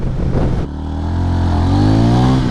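A 200cc motorcycle accelerating hard from low revs, its engine note climbing steadily in pitch and growing louder over a couple of seconds, close and alone with no talk.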